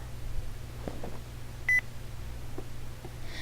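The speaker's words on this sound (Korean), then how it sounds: "세나군이 휴대폰을 꺼내 들어 어딘가에 전화를 걸었다" A single short electronic mobile phone beep sounds in a video game over a faint low hum, with no talk.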